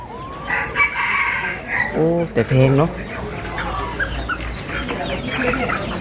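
Black chickens at a market cluck and a rooster crows in a loud burst near the middle, with several voices talking nearby and steady crowd bustle behind.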